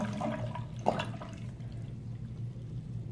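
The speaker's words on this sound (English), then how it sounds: "Pour it back into the sink." Cloudy, murky water poured into a sink, heard as a faint, steady splashing and trickling stream, with a brief louder gurgle early on.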